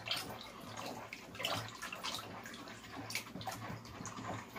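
Plant nutrients being stirred into a container of water, with continuous sloshing, swirling and splashing throughout, fairly quiet and close.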